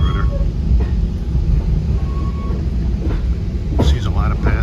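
A VRE commuter train pulls into King Street–Alexandria Union Station with a close rumble and brief squeals near the end, while someone talks over it.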